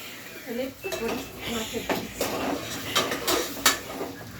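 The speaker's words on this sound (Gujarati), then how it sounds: "આપણે ઘડી ઘડી આમ હલાવીએ ને એટલે તેલ પણ તૂટી જાય મસ્ત અને બટેકા મસ્ત બને" Potatoes are stirred in oil in a cooking pot. A utensil scrapes and clinks against the pot in irregular strokes, close and fairly loud, with a faint voice briefly under it.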